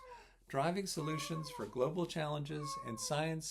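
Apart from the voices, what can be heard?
cat meowing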